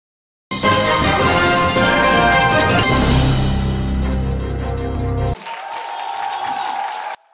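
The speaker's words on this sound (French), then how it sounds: "C'est par un tonnerre d'applaudissements que les femmes de Fresco ont accueilli la bonne nouvelle." Women of Fresco in Côte d'Ivoire burst into loud, sustained applause, dense and close, continuing for several seconds before thinning into a lighter background clatter with tonal sound.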